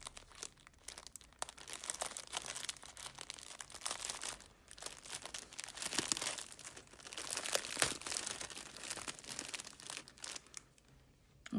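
A crinkly plastic package holding a cross-stitch kit is handled and torn open, giving continuous rustling and crackling up close for several seconds, with no talking.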